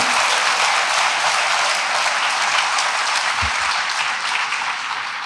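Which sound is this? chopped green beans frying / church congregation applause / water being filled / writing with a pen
church congregation applause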